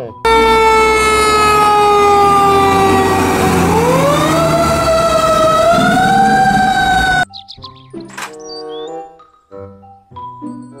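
A toy fire truck wails a loud, continuous rising-and-falling siren for about seven seconds, then cuts off, leaving scattered clicks and faint voices.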